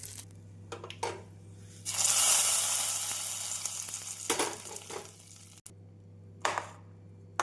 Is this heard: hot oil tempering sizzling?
yes